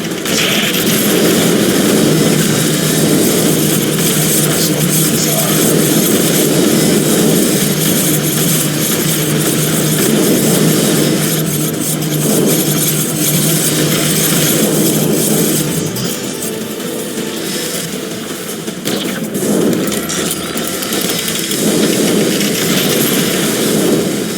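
Assault helicopters attacking in the video game X-Morph: Defense, heard as a loud, continuous rotor and engine roar with dense mechanical noise that holds steady throughout, with no speech.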